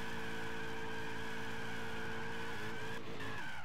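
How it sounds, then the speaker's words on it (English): Tires squeal in a sustained screech during a Gran Turismo 6 burnout, with a loud droning race-car engine underneath throughout, shifting pitch near the end. "Look at this burnout."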